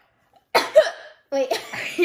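Two close, sharp coughs from one person, separated by a brief pause.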